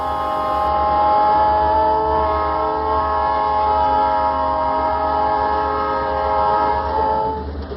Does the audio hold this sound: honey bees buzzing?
no